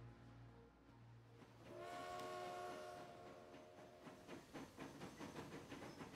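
A train runs through forest on the Berlin–Braunschweig line in the game Transport Fever 2. Its horn sounds as a sustained, tonal blast over a steady rolling rumble, then the clatter of the wheels carries on alone.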